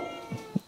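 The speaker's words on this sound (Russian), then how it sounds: "И вот внизу кошак постоянно мяукает" A cat meows twice in quick succession, short and fairly faint, close by at a country house.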